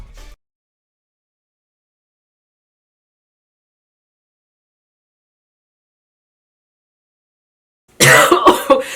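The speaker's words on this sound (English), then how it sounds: "Not me coughing before we start." A single brief cough at the very start, followed by long silence, then a burst of loud sound near the end.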